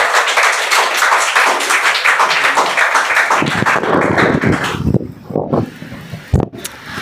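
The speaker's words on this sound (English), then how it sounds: "Everyone please clap for the madam." An audience at a school Teachers' Day program applauds the judge on stage with dense, loud clapping for several seconds before it thins out into a few scattered claps and handling thumps.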